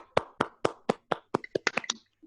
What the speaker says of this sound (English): I would like for you guys to give yourselves a round of applause and everybody else that spoke